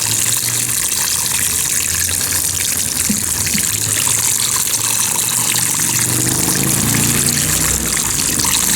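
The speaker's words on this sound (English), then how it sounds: "we just water from the top with our watering can or your hose" Water pours steadily from a watering can or hose over upside-down self-wicking plant buckets, a continuous close splashing gush that runs for the full stretch without pause.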